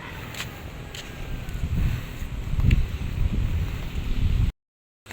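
Outdoor wind gusts rumble steadily against the microphone while someone walks through a green, open area. The wind rises and falls in strength for several seconds, then cuts out abruptly.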